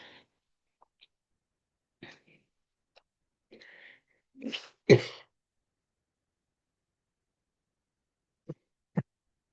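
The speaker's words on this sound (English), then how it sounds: "excuse me for the coughing" Several short coughs and throat-clearing bursts, close and sparse, separated by silence, with one stronger cough in the middle.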